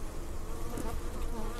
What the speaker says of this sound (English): The bees are then shaken from the queenless hive